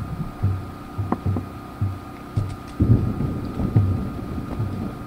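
Thunderstorm on an island in the game Poptropica, with low rumbling pulses rolling in a steady rhythm over a continuous blustery wind, fairly loud and with no voices.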